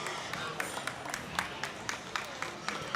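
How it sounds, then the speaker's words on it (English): At a swine show in an arena, a crowd gives a moderate round of applause, with scattered individual claps standing out over a steady background of clapping at a middling distance. "So give them guys a round of applause"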